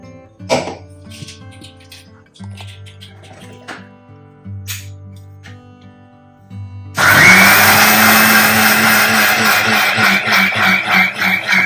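After a few quiet clinks, a mixer grinder starts at about seven seconds and whirs loudly and steadily to the end. It is grinding rice, urad dal, coconut, shallots, garlic, cumin and salt into batter for Kerala Puliyathappam.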